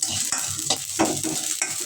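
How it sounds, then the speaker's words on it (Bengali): Olives for pickle fry in hot oil in a pan, a close, steady sizzle broken by a few stirring scrapes. "তো এগুলো ভাজতে নিই"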